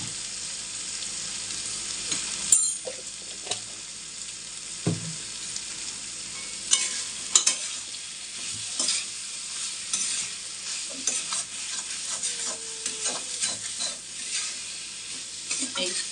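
Banana flower curry with ghee, prawns and sugar being stirred and fried in a pan, a steady sizzle broken by repeated scraping strokes and occasional knocks of the spatula, close and alone.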